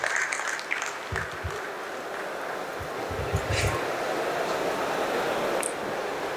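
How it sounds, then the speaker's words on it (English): An audience at an inauguration event claps for a guest in a hall, moderate and somewhat distant applause rising and holding steady, with faint background noise and some speech. "A round of applause for Rajkumar sir."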